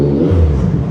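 A 2024 Yamaha MT09 SP motorcycle with an Akrapovic full exhaust system rumbles loud and close, its engine note holding a deep, steady growl for a brief moment.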